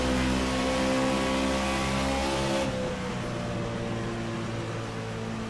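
A race car engine at Pocono Raceway drones loud and steady as the car is driven out of a turn, then its tone shifts and eases as the throttle changes.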